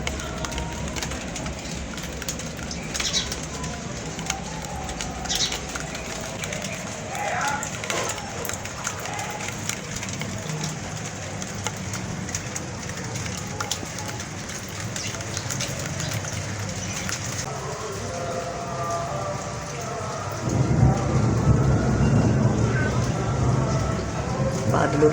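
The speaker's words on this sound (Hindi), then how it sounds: "बादलों की आवाज़ सुन सकते हैं, कितने ज़्यादा बादल गरज रहे हैं" Steady heavy rain falling in Karachi, a dense continuous hiss close by that swells louder near the end, with low rumbling underneath; no clear thunder claps stand out.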